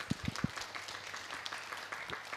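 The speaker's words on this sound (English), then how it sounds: "of course, a round of applause." Audience applause for a speaker named Bella at a food systems resilience panel, a few distinct claps at first, then a thin, fairly faint patter of clapping.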